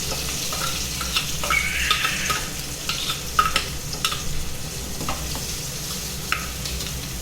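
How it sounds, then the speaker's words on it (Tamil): Onion and curry leaves sautéing in a pan for drumstick poriyal, a steady close sizzle with intermittent scraping stirs throughout, no voices. "இப்போ அதுக்குள்ளே இந்த வெங்காயம் கருவேப்பிலை ரெண்டையும் சேர்த்து கொஞ்சம் செவக்கிற அளவுக்கு வதக்கிக்கலாம்."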